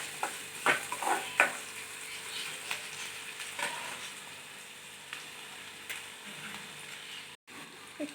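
Onions or vegetables for Daba-style shev bhaji being sautéed and stirred in a pan, with a steady low sizzle and a few sharp spoon scrapes early on, then quieter stirring and occasional clicks.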